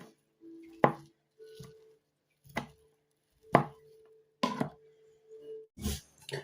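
A knife on a cutting board slicing food into thin, long strips for a liver salad, with about half a dozen sharp, irregularly spaced chops close by and a low steady hum lingering between strokes.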